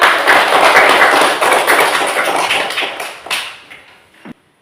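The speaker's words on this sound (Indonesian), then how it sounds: "Iya, tepuk tangan." A classroom of students claps hands together, a dense burst of overlapping claps that stays loud for about four seconds before thinning out and stopping, with a last few scattered claps at the end.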